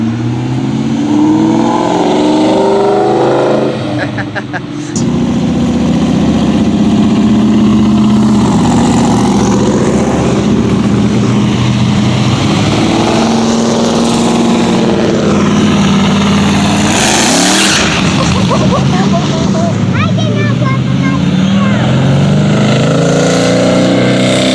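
A classic Pontiac GTO rumbles loudly at close range while pulling away from a Memorial Day car cruise, engine revving and surging over a steady roar of other traffic.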